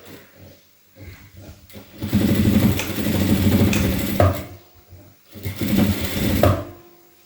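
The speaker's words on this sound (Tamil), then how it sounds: "இப்போ வச்சு நம்ம ஸ்டிச் பண்ணிடலாம்." A sewing machine stitches a blouse in two bursts of rapid, close mechanical whirring and clatter, separated by a short pause.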